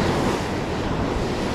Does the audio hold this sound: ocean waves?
yes